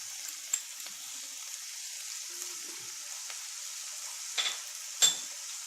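Ketchup, sugar and vinegar for a sweet and sour chicken sauce are stirred in a pan: a faint gentle sizzle with a few soft scrapes and clinks of a spoon, quiet and close, no voices.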